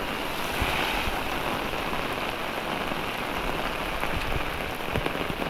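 Torrential Konkan rain drums continuously and evenly, a loud close wash of falling water with no voices.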